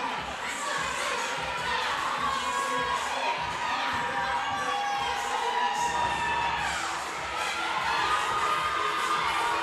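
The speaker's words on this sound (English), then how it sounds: "The fans in the audience cheering on their athletes" Spectators at a fitness competition cheer and shout loudly and continuously, a dense, close crowd roar with high excited voices and whoops throughout.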